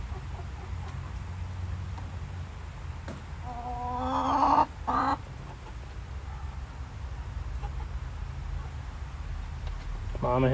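Hens clucking in a backyard chicken coop in winter, a few clear clucks and squawks rising briefly midway over steady low background noise.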